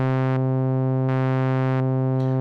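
A steady buzzy synth tone from an Arturia Oberheim OB-Xa V, its pitch jumping abruptly between two levels in a regular on-off pattern from a square-wave LFO, loud and alone.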